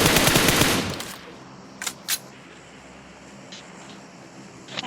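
Automatic gunfire in the PUBG Mobile battle-royale game: a loud, dense burst of rapid shots for about a second, then quieter ambience with two short sharp reports.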